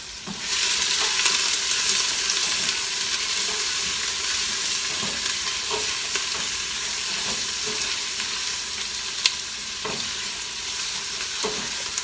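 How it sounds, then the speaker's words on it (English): Rough-chopped onions sizzle steadily in a pan for fiesta soup, a continuous frying hiss broken by occasional clicks and scrapes of a utensil stirring them, close and alone without voices. "I'm going to let the onions cook down a little bit to where they become clear"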